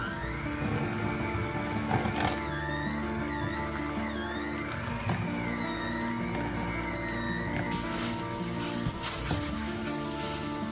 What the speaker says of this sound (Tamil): ஹேண்ட் பிளெண்டரால் பீட் பண்ணி எடுக்கணும்.